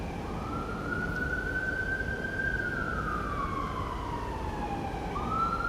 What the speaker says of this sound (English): a police car or a fire engine